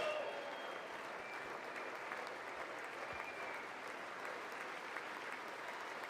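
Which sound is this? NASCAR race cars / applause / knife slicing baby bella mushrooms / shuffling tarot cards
applause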